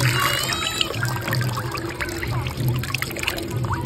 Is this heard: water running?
yes